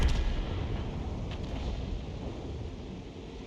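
Distant tank cannon fire from the World of Tanks battle, a dense low rumbling barrage of booms that rolls on steadily and slowly fades, with no talk over it.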